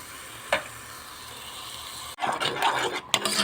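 Milk poured into a hot pan for béchamel sauce, a steady sizzle and frying hiss giving way to louder bubbling and stirring scrapes near the end, close and without talk.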